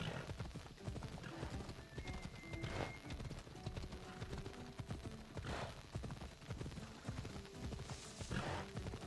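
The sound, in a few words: horse galloping and neighing in video game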